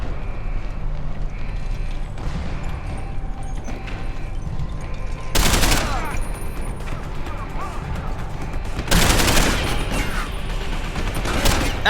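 In the video game Deus Ex: Human Revolution, gunfire and impacts crash in two loud, dense bursts over an ongoing background of game sounds and mechanical noise, each burst lasting about a second.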